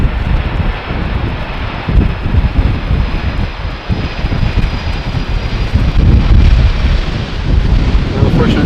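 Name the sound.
airplane landing in crosswind at Amsterdam Schiphol runway 18R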